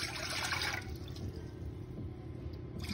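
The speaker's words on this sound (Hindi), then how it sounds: "इसके लिए हमें पानी लिया है, 2 ग्लास पानी का बनाएंगे जीरा वाटर।" Water pours steadily into a pot to make cumin water (jeera water), giving a continuous, quiet splashing gurgle that lasts the whole moment, with no voices.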